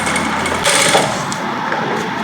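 A sewing machine runs steadily, stitching around the lining of a short gown, a close, continuous mechanical whir with a brief surge in the middle and no talking.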